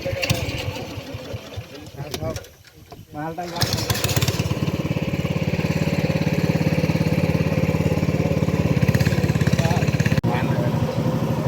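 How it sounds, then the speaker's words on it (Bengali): A trawler boat's loud engine chugs steadily and close by while crossing the Matamuhuri river, rumbling continuously after a brief pause near the start. "নদীতে ট্রলার দিয়ে পার হচ্ছিলাম"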